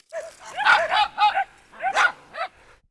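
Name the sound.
dogs barking at a swimming pool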